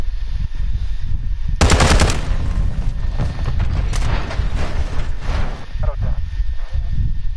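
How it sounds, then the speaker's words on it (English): Rapid automatic gunfire bursts in the video game Modern Warfare 2, loud and close, with a dense volley early on followed by scattered shots and crackling combat noise. "I'm taking effective fire"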